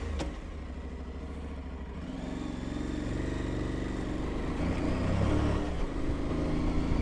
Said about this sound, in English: So let's start the Tuareg, let's take off